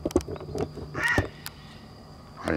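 A large bird, crow-like, gives several harsh caws near a fishing spot, a few sharp calls clustered early and another near the end, fairly close and loud.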